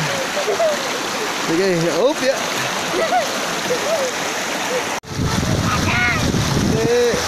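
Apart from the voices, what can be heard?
people walking through stream water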